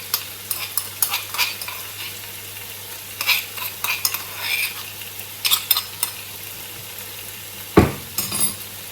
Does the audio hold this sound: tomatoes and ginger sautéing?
yes